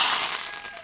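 Curry leaves hit hot oil with a loud, sudden burst of hissing sizzle right up close, fading slightly over under a second.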